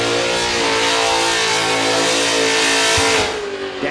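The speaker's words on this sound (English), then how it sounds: "This LS1 combo for the Commodore really puts it on." A Holden Commodore with an LS1 V8 engine revs hard at high, sustained rpm during a burnout, a loud continuous roar that eases off near the end.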